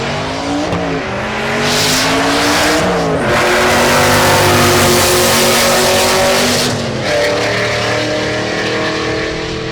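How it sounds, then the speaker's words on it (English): A silver first-generation Cadillac CTS-V with a turbo and stick shift roars down the drag strip at Tulsa Raceway Park, its loud engine climbing through the gears with shifts and tire noise, close and continuous. "David Muth in the right lane, the silver CTSV, that's the V1 with a turbo, stick shift."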